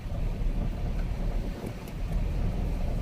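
Cool wind rushes steadily past a truck in motion, a continuous loud blustery roar with low rumble underneath and no voices.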